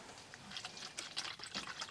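Bottled water pouring steadily into a container to mix a Netherlands military ration drink, a close, bubbly splashing and gurgling stream lasting a couple of seconds.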